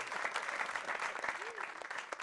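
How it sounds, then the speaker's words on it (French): An audience claps for the director of a Christian choir at a variety concert, a dense, steady spatter of applause close by with a voice briefly rising over it. "Et vous n'acclamez pas pour lui?"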